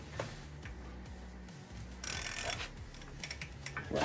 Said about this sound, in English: we're actually loosening the nut.